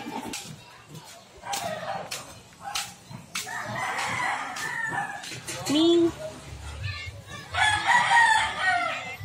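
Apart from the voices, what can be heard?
chicken crowing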